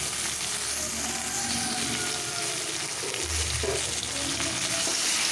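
Boiled taro (kochu mukhi) is frying in hot oil with cumin seeds and bay leaf, giving a steady, dense sizzle and a soft scrape of stirring, close and continuous without voices.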